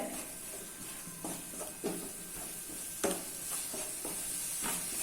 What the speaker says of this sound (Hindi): इसको अच्छे से मिक्स कर लिया है